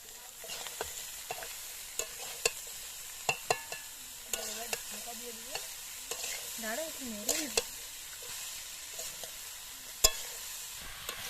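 Chopped bottle gourd goes into a pan of frying spices, producing scattered clattering stirs and scrapes over a low sizzle, with a few sharp knocks and a sliding, wavering tone partway through.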